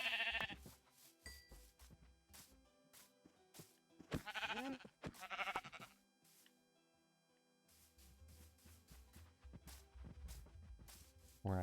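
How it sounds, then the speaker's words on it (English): Sheep bleat several times in a Minecraft-style super flat survival game, short nasal cries spaced across the stretch with some pauses, fairly loud against quiet game ambience and no talk. "Get us a couple sheep."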